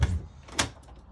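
A short closet door opening: a soft thump followed by a brisk sliding rasp, close by, with no one speaking.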